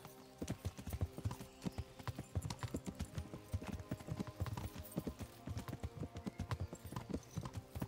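Horse hooves clip-clop in the medieval game Kingdom Come Deliverance, a quick, steady trotting rhythm of close, crisp hoof strikes that continues throughout.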